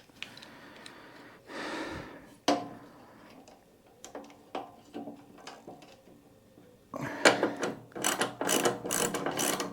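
A hand wrench turns a bolt on a vintage motorcycle, giving quick ratcheting clicks in short bursts, close and fairly quiet, with breathing between strokes.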